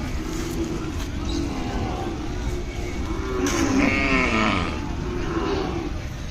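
Ongole bulls at the Kodada cattle market, a low drawn-out moo rising midway through a constant loud crowd hubbub.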